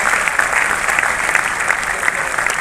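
A crowd at a Khelo India sports event bursts into loud, sustained applause welcoming Smriti Irani, with dense, steady clapping throughout and no pauses.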